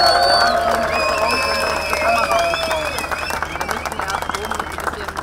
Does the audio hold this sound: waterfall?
no